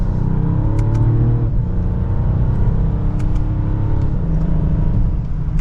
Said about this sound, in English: You can hear that engine and exhaust slightly, which I think is great.